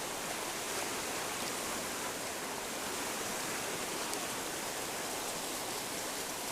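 A waterfall pours steadily, a dense, broadband rushing hiss of falling water, loud and close, unbroken throughout with no voices.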